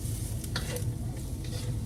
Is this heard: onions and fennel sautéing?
yes